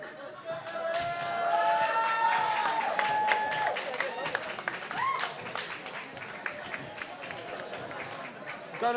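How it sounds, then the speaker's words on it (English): A crowd at a pankration fight event applauds and cheers, with scattered claps, a few whistles and chatter in the hall, and a voice briefly audible among the noise. "Big round of applause for our ring card boy."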